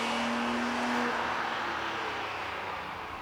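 A BMW M3 accelerating out of a corner, a loud steady engine roar with a high tone that fades, heard from inside the car without talking.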